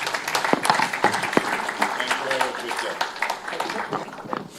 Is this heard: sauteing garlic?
no